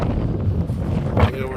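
Wind gusts buffet the microphone outdoors during rifle deer season, a steady low rumbling roar that runs through the whole moment.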